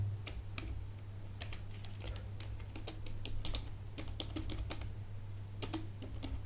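Quick, uneven clicking of typing on a computer keyboard while entering code, close and fairly quiet over a low steady hum, with no talk.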